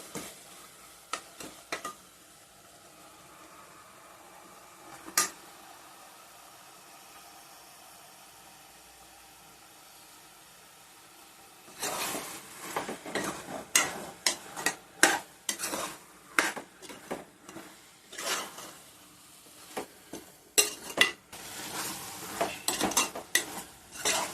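Eggplant pieces go into an onion-tomato mixture in a pan. After a quiet stretch with a few clinks, a spatula scrapes and stirs in repeated close, loud strokes over a soft sizzle.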